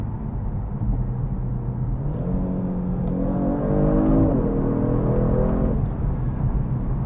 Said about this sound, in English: I actually hear just a little bit of an exhaust crackle there.